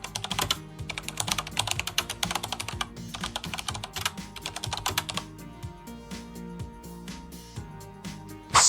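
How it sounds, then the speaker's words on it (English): Keystrokes on a laptop keyboard as a command is typed on Windows 11, a quick flurry of close clicks for several seconds that then thins to scattered taps and a final louder press, no speech. "Type the following command and press Enter."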